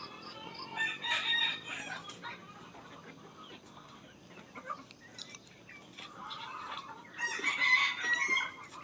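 Rhode Island Red chickens on a small farm cluck and crow, with two loud bursts of crowing near the start and end over a steady backdrop of clucking and scattered fowl calls.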